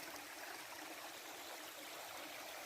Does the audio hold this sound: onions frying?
no